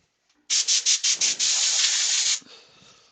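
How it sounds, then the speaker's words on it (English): Wood is sanded with 400 grit sandpaper, starting with five rapid pulsed strokes and then settling into a loud, steady close-up hiss that cuts off abruptly and leaves a quieter hum. "we've got that now sanded through to 400"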